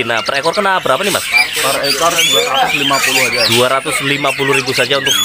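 Asian pied starling chicks, already weaned, squawk harshly and repeatedly at an Indonesian bird market, their busy, overlapping calls running throughout while men bargain over prices close by.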